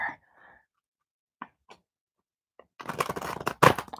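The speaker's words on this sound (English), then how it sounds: "Let's try to do one more nice shuffle there." Tarot cards being shuffled: a few faint, sparse riffles and taps, then a denser burst of papery shuffling and card flutter close by toward the end.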